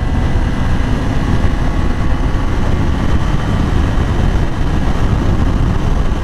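Yamaha R6 sport motorcycle riding in fourth gear, a steady, loud, rumbling engine drone with wind buffeting, continuous and close throughout with no talk.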